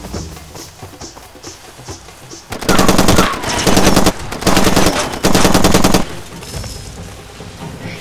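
Machine gun fire in Far Cry 2, loud sustained bursts of rapid automatic shots in four long volleys separated by brief gaps, following quieter ambient game noise.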